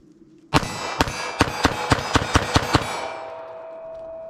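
Nine rapid pistol shots of .380 ACP ammunition fired at about 12 yards, sharp loud cracks in a quick steady string with ringing echo tailing off afterward.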